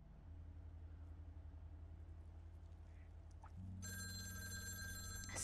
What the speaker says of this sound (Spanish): Suena el teléfono.